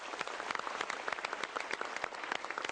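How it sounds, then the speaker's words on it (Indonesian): An audience applauds on an Indonesian motivational talk show, the clapping steady and dense throughout with crisp individual claps standing out, fairly close. "yuk kita berikan tepuk tangan ini"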